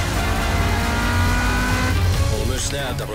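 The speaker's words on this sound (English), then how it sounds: "Is that car driving itself?" Car engine and tire noise from the 007 NightFire video game, a steady loud roar running throughout with a squeal near the end, mixed under game music and effects while people talk over it.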